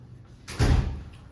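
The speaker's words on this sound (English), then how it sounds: "Callista, would you flip the door closed for us?" A classroom door swung shut, a single solid thud with a brief rattle, fairly close, in an otherwise quiet room.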